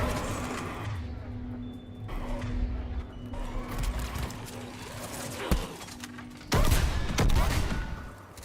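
Sustained gunfire from a firefight in Mass Effect 3, with dense overlapping shots rattling throughout and a louder, heavier burst toward the end, all over busy battlefield noise.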